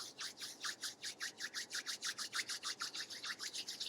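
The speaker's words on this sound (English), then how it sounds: "Let's rub the hands together, make them warm." Hands rubbed briskly together to warm them, a quick even series of about twenty soft swishing strokes, close and quiet, with no voices.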